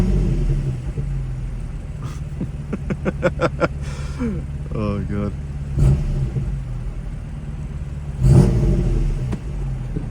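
A BMW M4 with its exhaust valves open gives a couple of short, loud revs, close by, with a rumbling idle in between and a voice speaking briefly over it.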